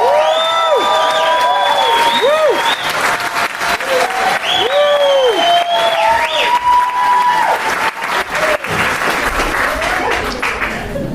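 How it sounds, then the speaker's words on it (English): A conference crowd gives loud, sustained applause mixed with cheers and whoops, carrying on strongly for over ten seconds with voices rising above the clapping. "Can we get a huge round of applause?"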